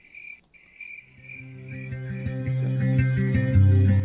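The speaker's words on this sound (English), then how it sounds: "the natural sound of crickets chirping" Crickets chirp steadily in a dense, rhythmic chorus that builds and thickens over time, with no voices present.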